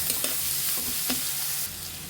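Prawn masala with onion being stir-fried in a pan, a steady close sizzle with a few soft scrapes and knocks of a spoon, no voices, and the hiss drops slightly toward the end.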